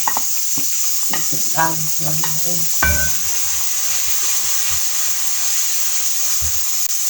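Bitter gourd peels sizzle steadily in a hot pan, a constant hiss with intermittent scraping stirs and faint background voices early on.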